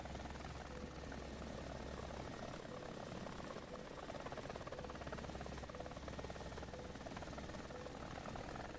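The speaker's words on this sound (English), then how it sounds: "This thing has a lot of lift. Obviously, it has 2 rotors" A twin-rotor attack helicopter in a War Thunder flight, its rotors thrumming in a steady, dense drone with a low buzzing undertone throughout, heavy and continuous with no pauses.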